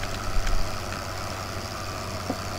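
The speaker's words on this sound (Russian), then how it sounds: "Заправим вот этот вот трактор." A tractor engine idles in Farming Simulator 15, giving a steady low, rumbling drone throughout, loud and continuous with a slight surge near the start, and no talking.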